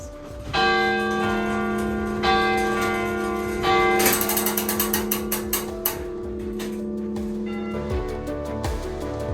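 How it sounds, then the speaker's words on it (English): A church bell on the island in Lake Bled, rung for wishes, peals several times with a bright ringing tone and long overlapping decay, followed by a quick series of lighter clangs as the ringing slows. "And what you're hearing is the bell when somebody just made a wish."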